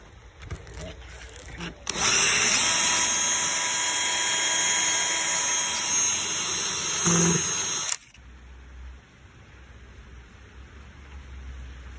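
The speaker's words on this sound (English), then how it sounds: "then we're gonna hit it with some sandpaper" A coin door carriage bolt is sanded, giving a loud, steady rushing abrasion that runs for about six seconds before cutting off abruptly, heard up close against quiet room tone.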